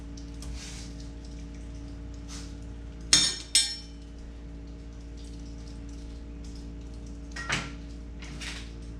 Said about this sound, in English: give her a couple clicks of grease